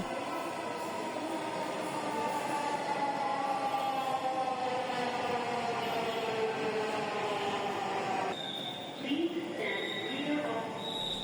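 A metro train rumbles in nearby, its pitch sliding down as it slows, followed by a brief electronic tone and muffled voices.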